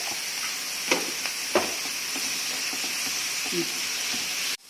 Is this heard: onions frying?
yes